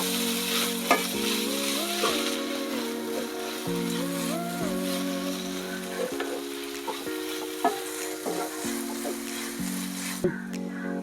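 Egg kothu chapati masala being stirred and fried in a pan, a steady sizzle running throughout with a scraping stir and spatula knocks every second or two, close and fairly loud, with no talking.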